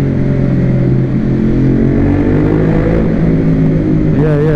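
A Ducati Monster 821 Testastretta motorcycle engine rumbles loud and close inside a tunnel, a steady deep throbbing drone that reverberates off the walls, rising slightly near the end.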